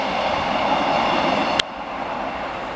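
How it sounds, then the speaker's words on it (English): A steady rumbling roar of a train on the railway near Workington and Harrington on the England coast, broad and continuous, with a sharp click partway through and the noise easing slightly after. "it approaches the railway, which is just down here, with a train on it"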